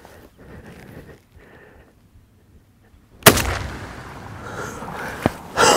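A single loud, sharp gunshot is fired at a strutting turkey during a spring hunt in Oregon. It breaks a quiet field scene, followed by rustling and a couple of smaller thumps.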